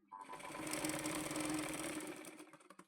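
A sewing machine stitches a katori blouse, running steadily for about two seconds with a continuous close, even whir before slowing and stopping.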